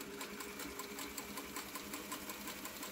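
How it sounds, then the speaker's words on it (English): A Singer 301 sewing machine stitches regular fabric with a steady, rapid, rhythmic needle clatter that runs unbroken throughout. The sound is fairly quiet and there is no talking. "Hold your thread for the first few stitches until it locks in place."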